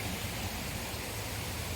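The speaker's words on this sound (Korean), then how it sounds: "물소리 들리시죠?" A strong mountain valley stream beside a pension flows in a steady, broadband rush, constant and fairly close with no talk over it.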